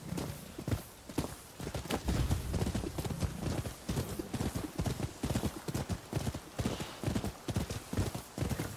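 Horse hooves clip-clop in a steady, rapid rhythm as a rider travels in Rise of the Ronin, loud and close throughout with a brief whinny.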